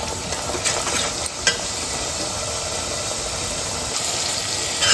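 Spices sauteing in a cooking pot while dried big-fish shutki and jackfruit seeds are prepared, giving a steady, close sizzling hiss with a few faint scrapes of stirring.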